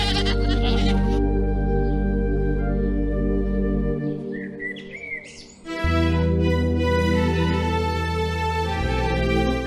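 Goats bleating loudly in a rural outdoor setting, with birds chirping in the background and a brief quieter lull midway.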